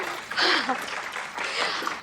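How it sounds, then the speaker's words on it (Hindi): A short burst of applause swells and fades in two waves, fairly close, with some lively crowd noise mixed in. "तालियां"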